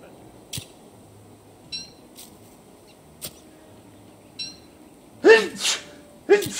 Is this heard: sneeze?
yes